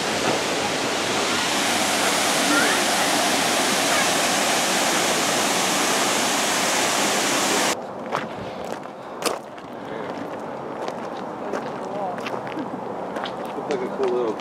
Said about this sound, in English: We're gonna go down there and see some waterfalls.